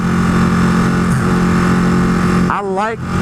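A motorcycle engine idles with a deep, loud rumble, then revs up in a quick rising and falling burst near the end.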